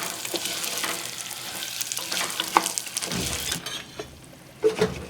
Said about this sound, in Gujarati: હવે આ ઘીમાં આપણે ઘઉંના ફાડા એડ કરી દઈશું અને બરાબર મિક્સ કરી અને 5 થી 7 મિનિટ સાથે શેકી લઈશું